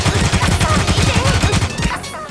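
Rapid sustained automatic gunfire from AI enemies in a video game, loud and close, a dense continuous burst of shots that barely pauses before tapering off near the end.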